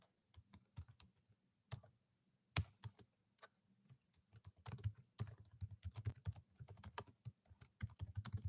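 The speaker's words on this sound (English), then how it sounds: "I'm typing the initials in for you." Typing on a computer keyboard during a family game night, with rapid irregular key clicks in bursts and a few pauses, close but soft, and no voices.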